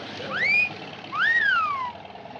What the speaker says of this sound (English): That's the fourth fella that's whistled at us.